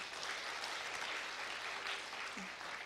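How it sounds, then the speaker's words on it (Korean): Applause from a lecture audience for a professor at the Jangseong Academy, an even, fairly soft wash of clapping that fills the short stretch, with a faint voice briefly audible. "힘찬 박수 부탁드립니다"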